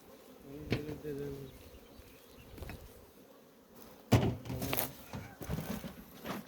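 Honeybees buzz around beehives in an apiary being prepared for a hive split, a steady low drone with occasional louder passes near the microphone and scattered handling knocks.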